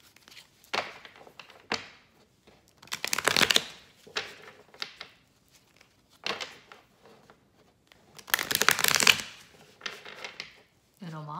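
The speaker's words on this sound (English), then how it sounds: "Needs a good hard shuffle." A deck of tarot cards is shuffled hard in several separate bursts of riffling and slapping, close and crisp, with brief pauses between, and a voice briefly at the end.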